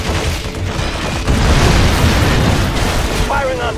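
Heavy explosions from weapon fire rumble through a Halo Wars battle, a dense continuous roar of booms that swells and stays loud, with radio-style unit voices speaking over the blasts.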